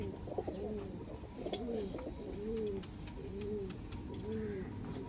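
Pigeons coo in repeated soft, rounded phrases close by, a steady rhythmic series of calls over a low background rumble, with a faint brief voice early on.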